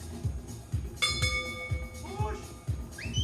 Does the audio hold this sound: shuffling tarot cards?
no